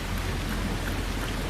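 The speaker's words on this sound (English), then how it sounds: "It's 44 degrees and it's nice and rainy outside." Steady rain falling outdoors on a cold 44-degree day, a constant, even hiss of drops with no voices and no breaks.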